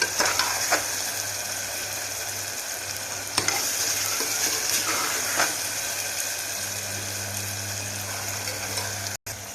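Onions frying in a pan with salt for a raw banana and mango curry, a loud continuous sizzle and hiss with occasional light clicks of a stirring utensil, with no talking.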